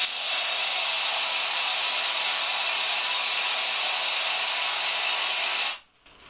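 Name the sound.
dry compressed air blowing into camera housing bag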